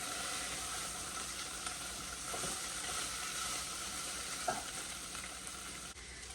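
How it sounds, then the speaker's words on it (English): Pasta frying in hot oil while stirred constantly to crisp without burning, a steady close dense sizzle throughout with faint scraping stir knocks, no talking. "Now that the oil's in, you have to stay here and stir it constantly, because you don't want them to burn."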